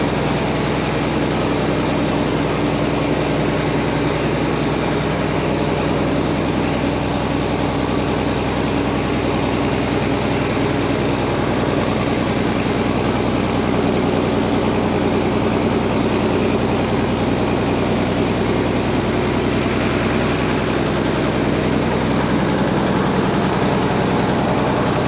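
Heavy engine of a manure pump truck with a tall agitation unit, backing in and rumbling loud and steady throughout, a constant low drone with no breaks or speech.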